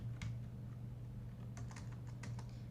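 Typing on a computer keyboard, quick light keystrokes in short clusters, faint and close, over a low steady hum, with no talk.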